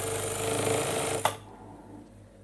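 A sewing machine stitches elastic into a trouser waistband, running as a loud, steady mechanical whir for about a second before stopping with a sharp click, followed by low, quiet room noise.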